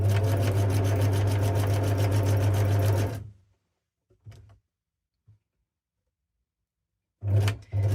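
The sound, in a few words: sewing machine stitching fabric snippet roll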